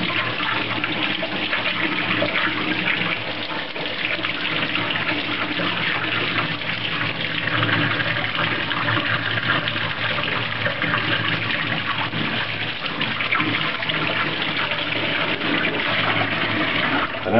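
Tap water running continuously while cleaned quail meat is rinsed at a sink, a steady close gushing splash with no pauses throughout.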